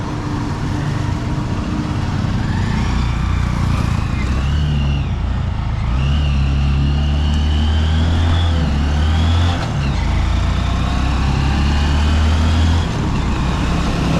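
A Honda Supremo motorcycle engine with a new chain and sprocket hums steadily while riding, with gear shifts and rising and falling revs over continuous road noise.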